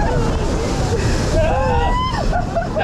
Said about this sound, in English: Ah, the splash!